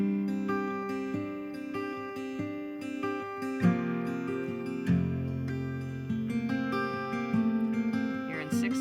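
An acoustic guitar is picked slowly in 6/8 time, note by note in a gentle rolling pattern, with chords changing a few times, played softly and alone.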